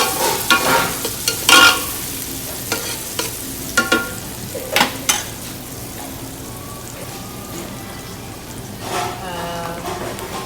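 Onions sautéing in a pan give a crackling sizzle with bursts of stirring and clattering utensil noise near the start, then a softer fry that continues.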